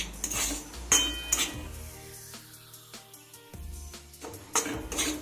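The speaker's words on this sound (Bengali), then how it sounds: "নেড়ে চেড়ে সুজিটাকে ভেজে নিতে হবে এক্ষেত্রে গ্যাসের হিট কিন্তু একেবারেই বাড়ানো যাবে না" Metal spoon scraping and clinking against a pan while semolina is stirred and dry-fried over low heat, with a few sharp clinks near the start and end and softer scraping between.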